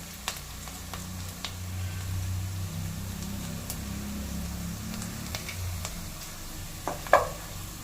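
Cumin seeds sautéing in oil in a pan for mutton mandi, a soft continuous sizzle with light stirring and a few clinks of a utensil against the pan, a louder knock near the end.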